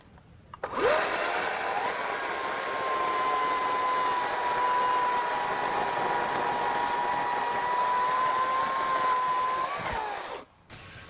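A Ryobi 40V electric chainsaw with a 20-inch bar spins up sharply, holds a steady high whine for about nine seconds, then winds down and stops, with no talking.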